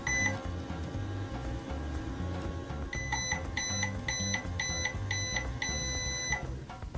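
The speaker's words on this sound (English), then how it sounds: "Let's just put this in the microwave." A microwave oven hums steadily with a low drone, then a run of sharp repeated electronic beeps rings out clearly over the hum, alone with no voices.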